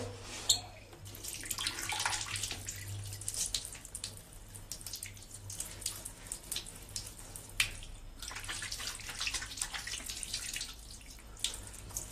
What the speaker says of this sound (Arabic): غادي نغسل وجهي